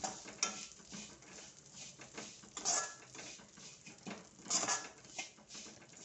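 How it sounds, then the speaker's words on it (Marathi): Garden cress seeds for aliv laddu are stirred in a pan over low gas, with a spoon scraping and clinking against the metal. The clatters are quiet and intermittent, and no one speaks. "चांगले मंद गॅसवर ते परतायचे"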